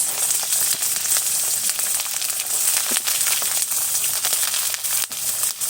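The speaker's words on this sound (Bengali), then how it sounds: "এবার আমি একে একে সমস্ত সবজিগুলো তেলে ছেড়ে ভেজে নেব। কপি দিয়ে দিলাম আর দিয়ে দেবো গাজর, বিনস," Cauliflower, carrots and beans sizzle steadily in hot oil for a vegetable dal, a continuous close crackling fry with scattered pops and no talking.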